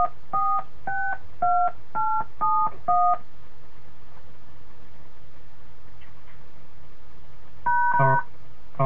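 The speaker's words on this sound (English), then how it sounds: "I did not hear you press at least 4 digits of your PIN number." Telephone keypad DTMF tones entering a PIN on an automated phone line: a rapid run of six crisp beeps at a steady rhythm, then a pause and another short cluster of tones near the end, clear and fairly loud.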